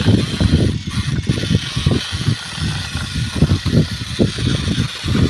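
Small homemade mini tractors run at a pulling competition, their little engines chattering and ratcheting in an uneven, pulsing rhythm, loud and close with no talk.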